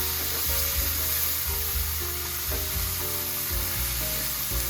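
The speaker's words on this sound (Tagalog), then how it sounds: "naririnig niyo yung sizzle na yun" Food frying in a hot pan gives a steady sizzle, close and continuous, under a rhythmic bass-heavy music line, with no voices.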